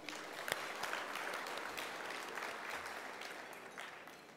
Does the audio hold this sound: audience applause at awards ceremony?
yes